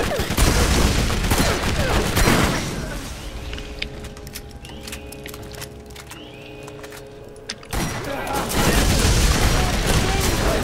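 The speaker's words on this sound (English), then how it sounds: "Holy crap, it does shoot rockets." Rocket-firing gun in the video game Borderlands, a dense barrage of loud blasts, a brief quieter lull with ringing tones, then another burst of shots.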